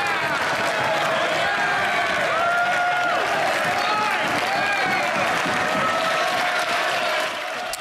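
Conservative MPs applaud in the Canadian House of Commons, sustained clapping and desk noise filling the chamber, with voices and murmurs mixed in throughout.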